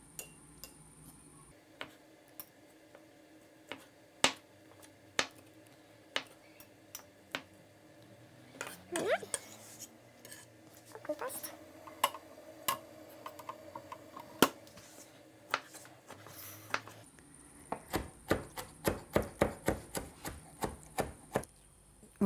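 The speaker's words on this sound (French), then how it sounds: "Voilà, l'ensemble est haché, fenouil et les deux algues." Knife chopping fennel and two kinds of seaweed on a board, a series of sharp scattered taps that turn into a faster, denser run of chops near the end, with no talking.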